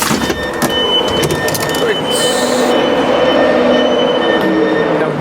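ScotRail Class 156 diesel train running on rails, heard loud and close from on board with a continuous rumble, wheel squeal and rattling, and a voice speaking over it.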